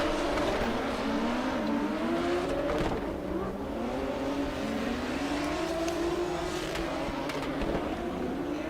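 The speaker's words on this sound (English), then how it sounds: "Abdullah now putting the car right where it's meant to be, but Fontaine just so fast" Drift cars in a tandem battle at an international drift championship final in Oman roar continuously, their engines rising and falling as they rev through the run, loud and sustained.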